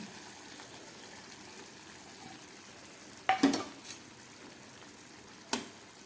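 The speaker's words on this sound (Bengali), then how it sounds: "তরকারিটা ফুটে উঠেছে এবার এই ভেজে রাখা মাছগুলো দিয়ে দিচ্ছি" Fried prawns drop into a simmering poppy seed curry, giving a couple of sharp splashy sizzle bursts over a steady low bubbling and frying hiss, with a smaller sizzle moments later.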